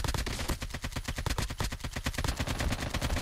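Sustained automatic gunfire in a Call of Duty Mobile solo-versus-squads gunfight, rapid rattling bursts firing almost nonstop, loud and close, with no voices over it.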